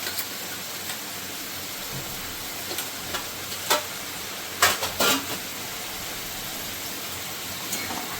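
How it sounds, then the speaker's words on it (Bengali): Ground coriander, cumin, red chilli and turmeric are stir-fried in a pan for a Bengali jackfruit-seed curry, making a constant hissing sizzle punctuated by a few scraping stirs, with no talking. "এবার মশলাটাকে আমি ভালো করে কষিয়ে নেব"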